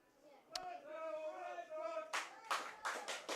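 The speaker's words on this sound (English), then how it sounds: "You see in your camera there's some clapping." Fans in the stands at a Barrie Baycats vs Brantford Red Sox IBL baseball game clap in a run of sharp bursts toward the end, following a sustained tone and a single early slap, moderately close.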